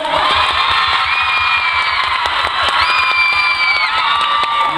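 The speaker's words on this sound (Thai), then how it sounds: "ขอเสียงปรบมือกดดันด้วยครับ" A stage-show crowd of fans at Grand Splendor 2013 in Future Park Rangsit shouts, cheers and claps, a loud, dense, continuous roar with high whoops and screams.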